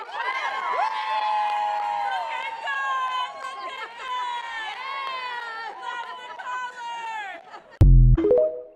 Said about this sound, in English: The moment actor F. Murray Abraham realized the crowd was cheering for him.